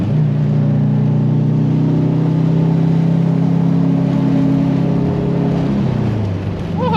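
A drift car's engine revs hard through first gear, a loud, sustained mid-pitched drone with steady harmonics that climb and then drop off near the end as the HKS blow-off valve vents.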